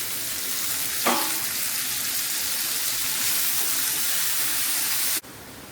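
Tomatoes added to browned onions in a pan for Chettinad chicken gravy, giving a steady broadband frying sizzle throughout, with a brief stirring scrape near the start and the sizzle cutting off abruptly near the end.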